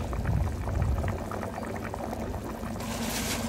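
Mutton with paprika powder and chili flakes cooking in a pot for aloo gosht, a steady close bubbling simmer with a soft hiss of liquid.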